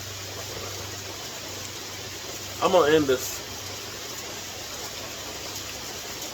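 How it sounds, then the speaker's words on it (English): Rain falls steadily outdoors on a chilly day as a constant soft hiss, while someone speaks briefly over it partway through. "it's gotten chilly out here with this rain"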